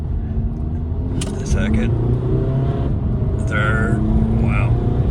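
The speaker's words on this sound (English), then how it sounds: "And that's me just revving it up manual." Manual-shift VW TDI 2.0 turbo diesel car, tuned with the emissions equipment deleted and an aftermarket pipe, revving and accelerating through the gears with a loud, steady engine drone close to the listener while someone speaks over it.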